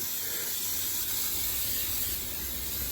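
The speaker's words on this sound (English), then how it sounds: "I'm gonna spray this down." Pam baking spray misted onto a pie pan, a steady, fairly close hiss lasting the whole few seconds with no talk over it.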